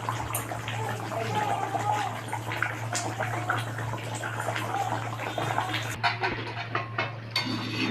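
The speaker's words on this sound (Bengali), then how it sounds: "ঝোল ফুটে গেছে, এবার আমি মাছগুলোকে দিয়ে দেবো" Pieces of katla fish slip into a pot of boiling curry for a fish kalia, giving a steady close bubbling and sizzling over a constant low stove hum, with a few light clinks of utensils.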